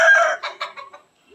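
Chickens clucking in a Philippine house yard, a loud close burst of bright squawking followed by a few shorter clucks that fade into quiet.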